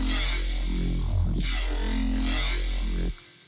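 Serum synth bass preset Bass Hovercraft from Next Gen Presets for a trap track, a loud, deep droning bass with sweeping, wobbling filter motion that rises and falls before cutting off abruptly.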